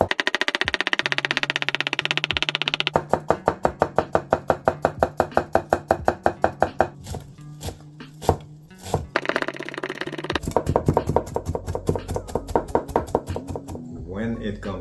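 A Toyama gyuto knife chops rapidly on a cutting board, a long run of crisp, evenly spaced thuds at close range, pausing briefly before resuming in quick bursts.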